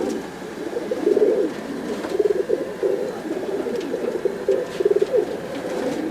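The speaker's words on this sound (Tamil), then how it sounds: "இத்தனை புறா எல்லாமே இங்கே மேயிறது" Kattan pigeons cooing in a loft, a steady stream of soft, throaty coos repeating in close, overlapping bursts from several birds.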